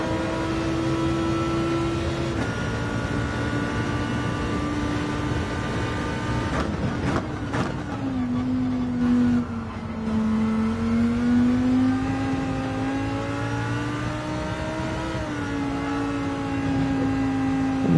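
A Lamborghini engine in Gran Turismo 7, droning steadily with tonal revs that rise and fall through gear changes, held at a sustained, moderately loud level with a brief dip midway.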